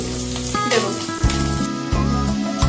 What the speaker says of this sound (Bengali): তেলটি গরম হওয়ার পর একে একে আমরা আদা কুচি,